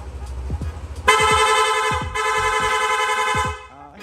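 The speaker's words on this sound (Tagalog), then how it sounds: "Pwede ring rapid horn, no? Magsusunod-sunod po yung busina." A loud, buzzy Yamaha NMAX 155 motorcycle horn blares in two long bursts with a short gap between, after a few quick clicks and short rapid-horn bleeps.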